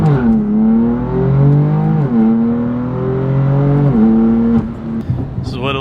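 A BMW M4 CS with the S55 engine drones loud and close under acceleration, its exhaust pitch climbing and dropping back several times before tapering off.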